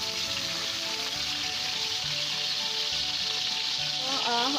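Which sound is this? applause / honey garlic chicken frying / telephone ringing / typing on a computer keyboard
honey garlic chicken frying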